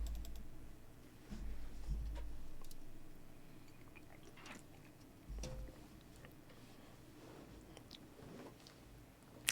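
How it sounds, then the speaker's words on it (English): Rapid typing on computer keyboards during a typing race, soft irregular key clicks that come in bursts, faint and close, with no talking. "we're all going to race each other to see who can type the fastest."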